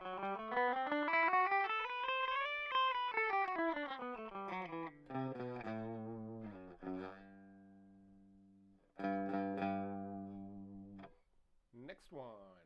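A Steinberger headless guitar, apparently through effects, plays a single-note scale that climbs then descends, followed by a few longer ringing notes and a final sliding flourish, heard close and clean.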